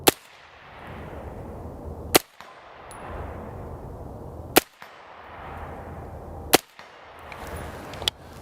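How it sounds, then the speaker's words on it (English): Four sharp rifle shots ring out roughly two seconds apart, each a crisp crack with a faint metallic ping of a steel plate hit downrange, and a long decaying echo between shots. "So bam, hit that steel plate."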